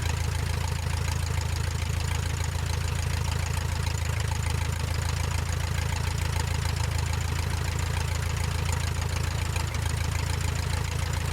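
Steady, loud drone of a Luscombe light aircraft engine idling while the plane taxis toward the runway end, unbroken and close throughout with no talk.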